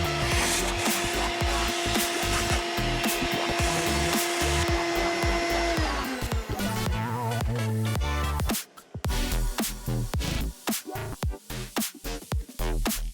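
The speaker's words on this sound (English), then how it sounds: "Get the vacuum out and clean some of this sawdust off of it." A loud, steady vacuum cleaner whine runs throughout, its pitch shifting midway, joined by scraping and rubbing as the nozzle cleans sawdust off a wooden plaque.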